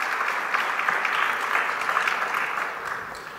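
A church congregation claps together in praise, a steady wash of many hands applauding at moderate distance, fading slightly toward the end.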